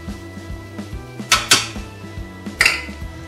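Onions and garlic are tipped into sizzling chorizo in an Instant Pot on saute, a few sharp clatters of utensil against the metal pot over a low steady background.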